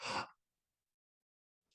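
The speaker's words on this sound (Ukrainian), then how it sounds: "стали і вдихнули з відкритим ротом на половині вдиху, затримавши дихання" A sharp open-mouthed inhalation, a single short breath in, close and fairly loud, followed by silence and a faint breath at the very end, with no one talking.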